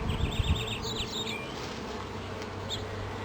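Honeybees hum in a top bar hive during a spring inspection, a dense, close, continuous buzz with a few higher whining passes early on.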